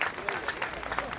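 Audience applause at a Hindi kavi sammelan poetry recital in Raipur, a brief burst of clapping from a crowd with some murmuring mixed in, fairly steady over its short length.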